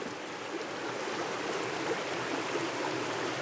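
Water in a natural stream rushes and burbles over rocks in a steady, dense wash of sound that stays close and even throughout, with no voices.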